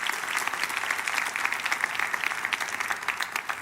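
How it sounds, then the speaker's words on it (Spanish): A church congregation applauding steadily throughout, a dense, even wash of clapping from a large crowd. "si va a aplaudir, hágalo con más ganas"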